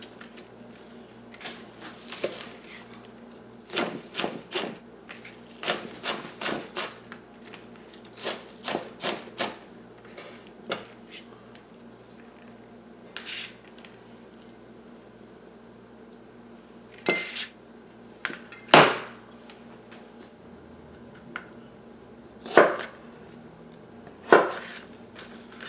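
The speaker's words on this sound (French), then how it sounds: "Une échalote verte. On la coupe en deux." A knife cuts a green onion in half on a board, a series of sharp, irregular taps and knocks. Some are clustered and some are spaced apart, with a few louder hits toward the end.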